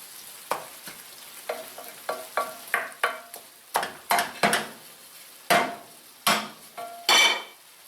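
Ground hamburger meat cooking in a pan for Hamburger Helper, heard as a run of sharp scraping stirs and clatters about every half second over a faint sizzle, close and fairly loud, with no talking.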